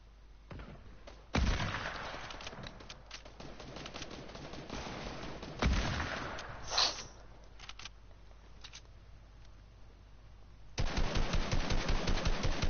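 Video game gunfire in a solos match, repeated rapid bursts of automatic fire, loud in places and fainter in between, ending with a sustained close volley.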